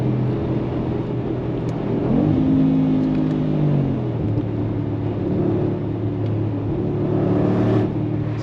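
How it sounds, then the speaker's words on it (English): Brabus G700 G-Wagon engine revving at speed on the Autobahn, a steady loud interior drone that swells and climbs in pitch mid-way, then settles back into a continuous rumble with no talking. "So people, listen to the G700 when it's revving."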